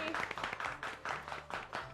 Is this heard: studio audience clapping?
yes